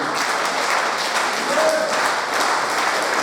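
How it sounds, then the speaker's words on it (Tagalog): A congregation at a Friday prayer fellowship claps steadily, a loud, dense, even wash of many hands with no pauses, close and continuous throughout. "Marami ng palakpak na sa Lord."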